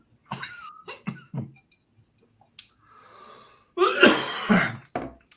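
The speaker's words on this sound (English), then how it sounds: "That was a cough, not a cough that it was a bad drink, by the way." Someone coughs hard after ginger beer goes up their nose while drinking on a podcast: several short breathy bursts, then a loud, harsh, rasping cough fit close to the mic, ending in a quick gasp.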